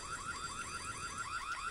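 Alarm in the Korean horror video game White Day, a steady repeating electronic warble cycling several times, rising and falling at a fast even rhythm, moderately faint with nothing else over it.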